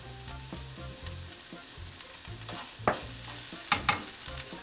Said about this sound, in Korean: 양념이 고루 배일 수 있도록 잘 볶아줍니다.